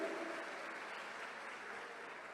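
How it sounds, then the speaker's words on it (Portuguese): A church congregation applauds during a sermon with a steady, even patter of many hands. The clapping sounds soft and somewhat distant and continues unbroken. "Pode aplaudir que é o Senhor"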